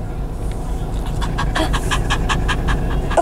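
An eight-week-old toy poodle puppy pants in quick, steady rhythmic breaths, close and fairly loud over a low rumble of background noise.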